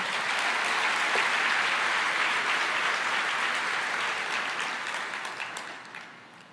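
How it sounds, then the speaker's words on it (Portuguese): A church congregation applauds during a sermon, with a broad wash of clapping from many hands held strong for several seconds before gradually fading out. "Você pode aplaudir ao Senhor por isso?"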